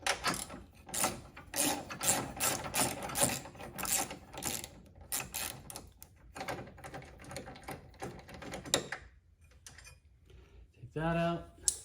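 A 10 millimeter ratchet wrench loosens the battery bracket bolt on a Chevrolet Equinox, giving rapid, close clicking in bursts and a few pauses, then a short scrape at the end.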